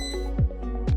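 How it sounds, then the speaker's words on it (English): Cosori air fryer beeping as it finishes cooking: short electronic beeps stand out clearly over a steady background hum, with a couple of distinct tones spaced through the second. "You'll know the air fryer is done cooking when you hear it beep 3 times."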